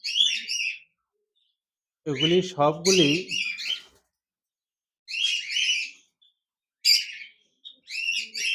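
Many cockatiels in an aviary cage at a bird farm give bright, repeated chirps and whistles in short bursts separated by pauses, close by, while someone speaks briefly partway through.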